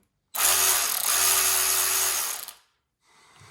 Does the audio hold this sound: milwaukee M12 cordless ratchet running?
yes